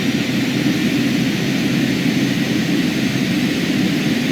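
Carenado King Air B200 turboprop in MSFS 2020, on final approach in mountains with one notch of flaps: a loud, steady, even drone of engine and propeller noise throughout, with no talking.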